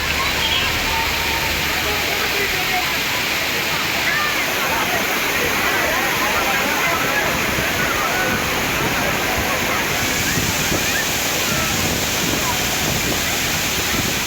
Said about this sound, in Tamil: அருவியின் அனைத்து பகுதிகளிலும் மிதமான தண்ணீர் கொட்டும் நிலையில்